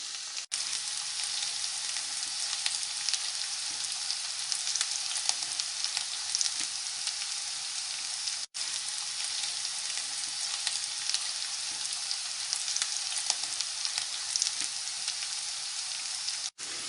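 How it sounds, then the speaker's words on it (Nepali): Sesame seeds fry and sizzle in a pan over a medium gas flame, a dense steady crackle with faint stirring scrapes, continuous and close with no talking. "ग्यासलाई मिडियम फ्लेममा राखेर फैलाउँदै चलाउँदै गर्नुपर्छ"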